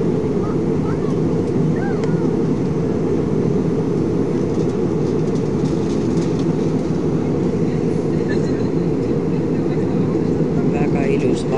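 Steady roar of an airplane cabin in flight over Estonia, a constant loud broadband drone that fills the whole stretch, with muffled voices beneath it.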